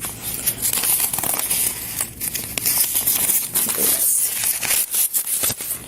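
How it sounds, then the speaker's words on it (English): Paper torn off a sheet during a police lottery fraud interrogation: dense crinkling and ripping bursts across the whole span, close and fairly loud, with no talk over it. "Tore off one piece of paper."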